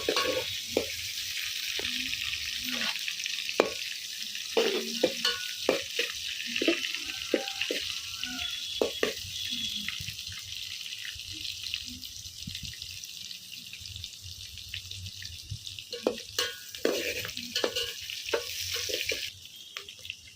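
Onions and green chillies fry and get stirred in a pan over a husk-fuelled stove, with a steady sizzle and frequent clacking scrapes of a spoon against the metal, close and continuous.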